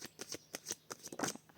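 A deck of cards being cut and riffled during a card reading, a quick run of soft crisp flicks and taps, close and quiet.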